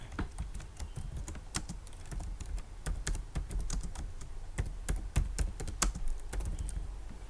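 Fingers typing C++ code on a computer keyboard, a quick irregular run of crisp key clicks with occasional louder taps, close and fairly quiet, with no talking.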